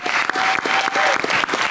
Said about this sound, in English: another round of applause for our great moderator, Danielle Squires, please